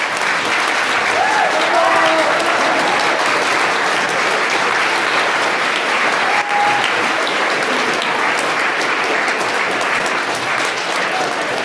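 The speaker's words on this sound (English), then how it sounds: "Keep clapping, one more round." Sustained applause from a large crowd at a senior speech, dense and loud throughout, with a few faint voices and whoops mixed in.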